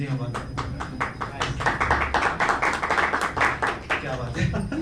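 Live audience clapping at a Hindi-language comedy show in Delhi, a dense run of hand claps across the whole stretch with the crowd loud and fairly close.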